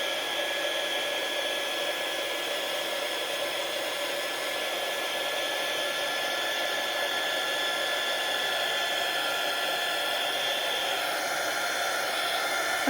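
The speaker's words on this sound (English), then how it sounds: "And then you take your heat gun." A heat gun blows on poured resin for a beach-style water ripple tray, giving a steady, loud, unbroken rushing hiss that runs throughout without talking.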